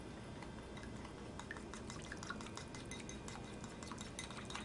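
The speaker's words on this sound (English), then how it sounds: "And just whisk it all together." A utensil whisks a mirin-based sauce in a bowl, giving quick repeated clinks and wet sloshing ticks in an irregular rhythm, close and fairly soft, with no talk.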